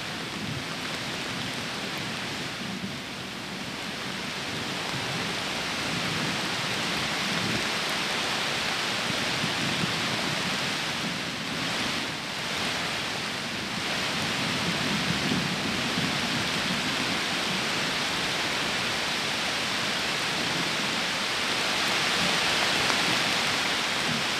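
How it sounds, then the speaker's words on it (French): Steady roaring gusts of wind and rain in a thunderstorm with small hail, loud and continuous, swelling and easing slightly over time. "On entend bien les bourrasques de vent."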